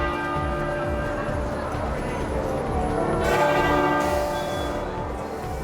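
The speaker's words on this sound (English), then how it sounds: "Across the country, bells tolled in memory of Queen Elizabeth II" Church bells ring out in overlapping, resonant tolls across Britain in mourning for Queen Elizabeth II, a dense sustained peal with steady rhythmic strikes, fairly loud and reverberant throughout.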